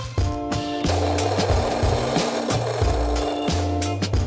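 A Fellow Ode electric burr grinder grinding coffee beans at a middle setting, close and loud, its motor hum broken by rhythmic rattling and crackling of beans through the burrs for the whole stretch.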